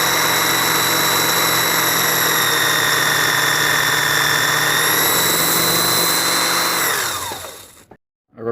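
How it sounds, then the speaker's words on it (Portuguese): An electric drill runs steadily, boring 3 mm holes in a nylon piece that will hold an electric scraper's motor in place. The loud sustained whine continues for about seven seconds, then winds down and stops near the end. "agora eu vou fazer uns furos de 3 mm, que é para fixação dessa peça de nylon lá no lugar daquelas chapinhas no motor"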